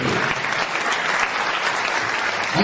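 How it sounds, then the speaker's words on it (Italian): A continuous burst of audience applause at an award ceremony, dense and even clapping from a full room with no voices. "un applauso"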